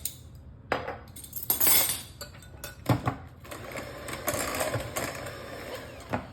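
Banana bread wet ingredients with vanilla being mixed in a bowl, irregular clinks and knocks of a utensil against the bowl with swishing, stirring sounds, close and without talk.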